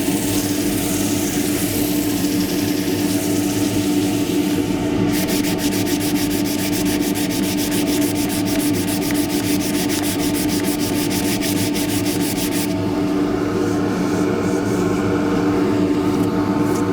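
Sandpaper of 180 grit runs against a spinning wooden tray on a lathe, producing a loud continuous rushing hiss over the lathe's steady hum, with a harsher buzzing stretch in the middle.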